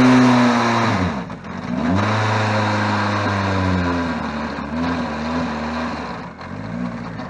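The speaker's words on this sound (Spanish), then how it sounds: "Ahí tenéis el motor 1700 turbo, están ahí probándolo ahora" A 1700 turbo engine in a race barchetta under test at a hillclimb: loud, close revving that rises and drops repeatedly in pitch, with strong harmonic whine and throttle blips across the whole stretch.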